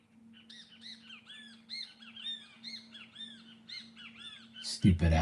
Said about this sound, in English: Stupid ass birds.